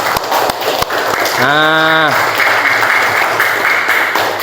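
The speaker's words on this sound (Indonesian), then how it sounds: "Tepuk tangan untuk kita hari ini." Children's applause fills a classroom during an Islamic religious education lesson: steady, dense clapping throughout, with a short rising voice-like cry midway and brief talk at the start.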